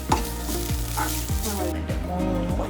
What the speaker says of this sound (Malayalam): തേങ്ങയും നല്ലപോലെ ബ്രൗൺ കളറാവുന്നവരെ വറുത്തെടുക്കാം.